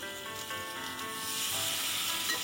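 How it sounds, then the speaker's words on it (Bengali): Spice paste for muri ghonto, a Bengali fish-head curry, sizzles steadily in a hot pan while being stirred and fried, a close, continuous hiss that grows a little louder partway through, with no voices. "এবার এটাকে সুন্দরভাবে নেড়ে কষিয়ে নিতে হবে।"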